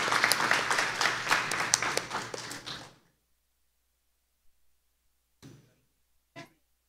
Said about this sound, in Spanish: Un fuerte aplauso para los representantes de los equipos